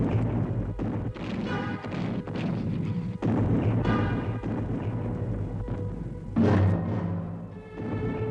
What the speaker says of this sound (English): Already the British bombardment at Arras had begun.